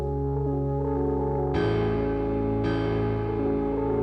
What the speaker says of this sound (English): Just wanted to add some reverb on this as well.